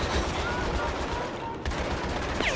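Automatic gunfire from the video game Battlefield 3: Aftermath, aimed at a player in a vehicle, runs as a dense, steady rattle of shots through the whole stretch, with a brief dip near the middle before the firing continues.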